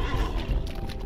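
A horse in the Lord of the Rings Online video game gives a brief, loud neigh, with a thick low rumble under it.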